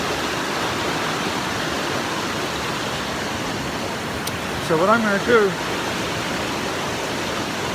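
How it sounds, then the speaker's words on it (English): A running brook near the Mosquito Flat trailhead in Inyo rushes loudly and steadily, with someone speaking briefly over the flowing water. "And we have the running brook."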